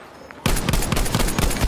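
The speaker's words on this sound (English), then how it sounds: "Bloody big machine gun" A large machine gun in the Battlefield 5 video game opens fire after a brief quiet moment, unleashing a dense, loud, rapid burst of overlapping gunshots that continues to the end.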